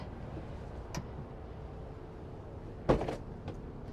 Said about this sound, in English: I'm going to open the doors on up.